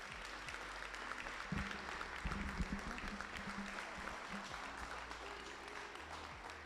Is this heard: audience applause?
yes